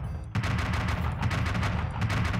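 A car launcher fires at a pirate ship in the BeamNG Drive game, producing rapid, loud repeated bursts like dense gunfire that continue in a rolling barrage.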